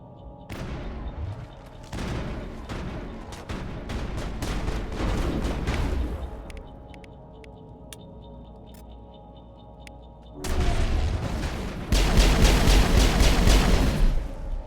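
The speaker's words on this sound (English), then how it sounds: "Oh, they're already shooting." Enemy gunfire in Mass Effect 1, rapid volleys of sharp shots and booms in bursts with a lull of electronic tones in the middle, then heavier, denser firing toward the end.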